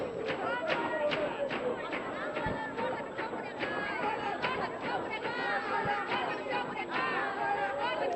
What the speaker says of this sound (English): that are really making noise, cheering for their team in Angola